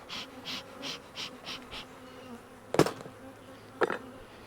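Bees buzz around an opened hive, a steady series of close, pulsing drones repeating about every third of a second, followed by two sharper, louder bursts as single bees pass near.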